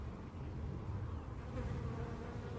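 Honeybees at a beehive buzz in a dense, steady hum, close and constant, with no talk over it.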